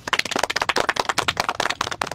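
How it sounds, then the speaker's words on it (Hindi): A small group claps rapidly and close by in a street comedy scene, a dense crackle of sharp hand slaps that runs steadily throughout. "अरे वाह बजाओ ताली"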